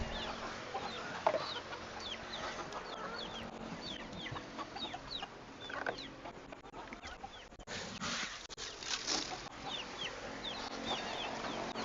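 A flock of farm chickens clucks and chatters continuously at feeding time, many overlapping soft calls near and far, with occasional rustling and a brief louder scuffle midway.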